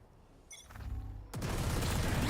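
Gunfire in a VALORANT match: a quiet stretch of faint game noise leads into a brief crack, then a loud, dense burst of shots that fills the rest of the moment.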